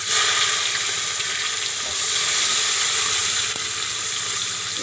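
Green garlic and chillies sizzle in hot oil on a low flame as the tempering for a green chickpea curry. A steady, close, crackling hiss continues without a break and no one speaks.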